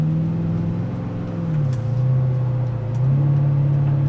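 A 1967 Chevrolet Impala with a Roadster Shop build drives down the road, its engine droning steadily with a rising pull as it accelerates, loud and close with no talking.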